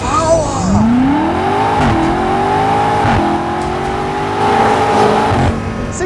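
A 2021 BMW M5 Competition LCI sedan accelerating hard, its engine note climbing through several gear changes with brief dips between shifts, heard loud from inside the car.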